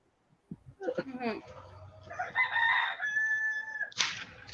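A rooster crows nearby, a drawn-out cock-a-doodle-doo rising over clucking and voices, followed by a short final squawk.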